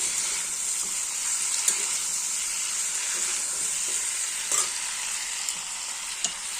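Stem amaranth greens frying in a pan give a steady, close sizzle with a bright hiss, broken by a few brief stirring clicks and scrapes.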